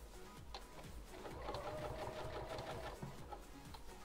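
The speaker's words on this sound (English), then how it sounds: "I'm letting the sewing machine just pull this whole thing forward." A sewing machine runs steadily, stitching through a travel bag as the fabric feeds forward, its close mechanical whir continuous with brief pauses and a few small clicks.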